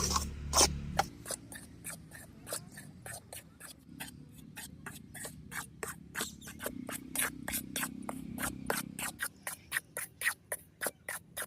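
Rice flour is stirred and roasted in a kadhai with a spoon, making a rapid, regular run of scraping strokes, close and fairly faint, with a brief thump at the start.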